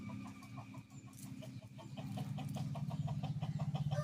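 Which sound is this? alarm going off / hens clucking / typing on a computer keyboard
hens clucking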